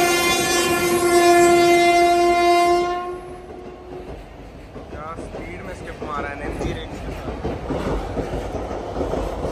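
At an Indian railway station at night, a train arrives with a loud, sustained horn blast that cuts off after a few seconds, then rumbling wheels and rattling cars as it rolls in, with crowd noise underneath.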